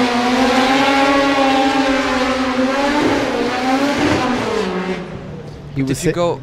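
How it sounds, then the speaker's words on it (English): A highly tuned SR20 engine in a drift car at a Sochi drift qualifying round holds a loud, sustained high rev for several seconds, pitch dipping and climbing, then ends in short sharp bursts, with commentary talking over it. "this is the most highly tuned SR20 he's ever had in his car"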